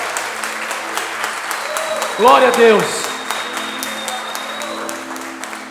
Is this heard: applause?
yes